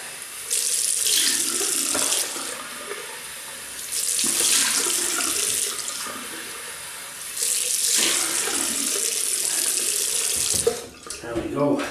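Warm tap water runs into a sink in three bursts as a face is rinsed after a shave with a Merkur Futur razor, each burst a loud close splashing rush separated by brief quieter pauses.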